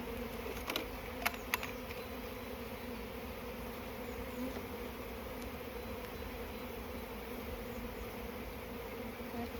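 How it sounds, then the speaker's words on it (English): Honeybees swarm around an opened hive crammed with honey, their dense steady buzz filling the air at close range, with a few faint clicks of hive parts being handled. "It is absolutely rammed with bees and honey."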